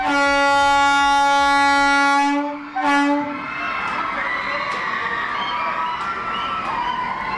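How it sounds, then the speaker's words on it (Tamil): A Vande Bharat passenger train on the newly extended Jammu Tawi to Srinagar Katra service sounds a loud, sustained multi-tone horn for about three seconds, then a short second blast, followed by steady rumbling rail and crowd noise. "ஜம்மு தாவியிலிருந்து ஸ்ரீநகர் கத்ரா வரை நீட்டிக்கப்பட்டுள்ள வந்தே பாரத் ரயில் சேவையை மத்திய ரயில்வே அமைச்சர் அஸ்வினி வைஷ்ணவ் கொடியசைத்து தொடங்கி வைத்தார்"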